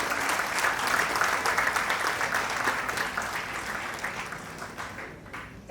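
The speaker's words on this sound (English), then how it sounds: "Round of applause for all of us." An audience at the S.I.A. 75-year Platinum Jubilee celebration breaks into sustained applause, a dense, steady wash of many hands clapping close by that thins slightly toward the end.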